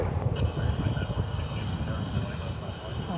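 A Boeing 777 airliner takes off from DFW Airport in hazy North Texas skies. A steady, distant low jet-engine roar and rumble fills the whole stretch, with a faint high whine, and a voice talks faintly over it.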